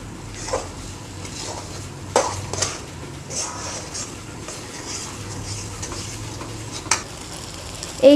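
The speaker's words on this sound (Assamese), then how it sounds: "এইখিনি ভালকৈ ভজা হৈ গ'ল।" Small fish fry with chopped vegetables in a pan, sizzling steadily while a utensil stirs and scrapes against the metal in repeated strokes, with occasional louder clinks.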